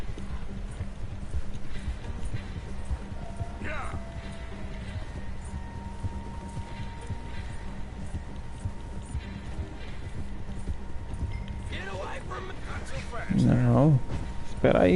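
Horse hooves clip-clopping at a steady rhythm in Red Dead Redemption 2, running under game ambience and spoken dialogue, with a louder burst near the end.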